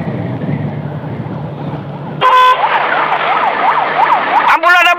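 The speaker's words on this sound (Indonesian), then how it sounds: "Pak, ambulan Pak ya, kasih jalan Pak ya." Heavy traffic rumbles until a nearby ambulance siren cuts in loud and close, wailing in rising and falling sweeps, with a short horn-like burst near the end and a man calling out over it.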